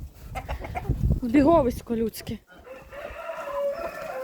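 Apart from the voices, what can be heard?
chickens clucking in poultry yard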